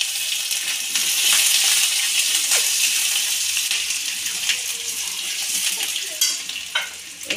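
Ginger paste sizzles loudly in a hot pan of oil for aloo vada, a continuous bright frying hiss with occasional stirring scrapes and spatters, no voices.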